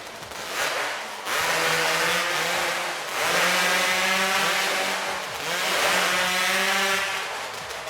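Several chainsaws rev up together during warm-up at a timbersports competition, loud and near, their snarling engines swelling and falling in repeated waves of throttle.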